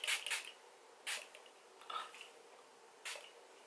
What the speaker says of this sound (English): Now I am just going to spray my face quickly.